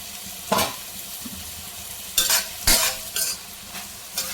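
Ridge gourd curry with milk fries in a pan while a spoon stirs it, a low sizzle punctuated by several loud scraping strokes against the pan, close by and without speech.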